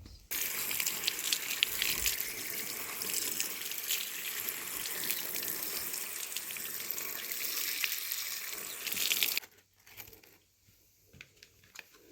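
Steady running water splashes from a tap for several seconds while leaves are rinsed under it, then it stops, leaving a few faint clinks.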